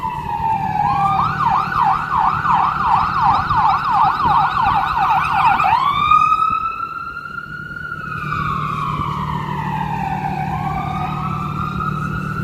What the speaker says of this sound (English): Here comes an ambulance, unfortunately, I think. It's going to be loud, guys.